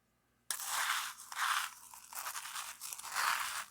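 Decades-old canned food, hardened and dry, is scraped and scooped with a metal measuring spoon, giving several loud, close, gritty crunches in bursts after a moment of near silence.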